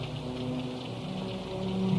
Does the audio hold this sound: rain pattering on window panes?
yes